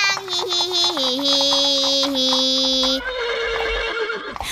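A whinnying horse from a children's farm-animal song calls in a long, loud, wavering neigh lasting several seconds, close and bright, trailing off into a softer shaky tail.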